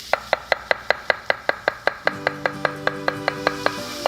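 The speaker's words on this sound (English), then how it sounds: "Let me chop. The fennel, you're trying to kind of make everything about the same size" A knife chops fennel on a cutting board in a steady, quick rhythm of about twenty crisp, close taps, with a low kitchen tone entering partway through.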